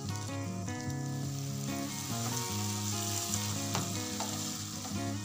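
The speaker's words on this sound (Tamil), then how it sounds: "கத்திரிக்காயும் உருளைக்கிழங்கும் முதலே பொரித்தனால 1 நிமிஷம் வதக்கினா போதும்" Pre-fried brinjal and potato pieces sautéing in oil in a pan give a steady, soft sizzle throughout, with faint stirring and a low background hum.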